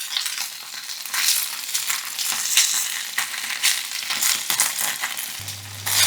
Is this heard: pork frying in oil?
yes